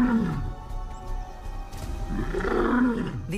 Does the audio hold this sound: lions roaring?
yes